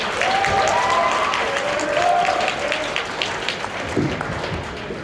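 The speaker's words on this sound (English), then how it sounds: "Let's give your president a round of applause and all of the leadership." An audience applauds the president and leadership at a morning gathering, with dense, steady clapping from many hands. A brief vocal shout or tone rises early, and the clapping loosens slightly near the end.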